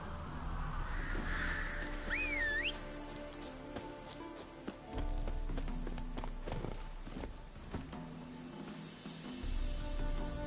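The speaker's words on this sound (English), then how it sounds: "Ordinary ravens, looks like." Ordinary ravens in The Witcher 3 give a few harsh caws, with footsteps and ambient game sound beneath them.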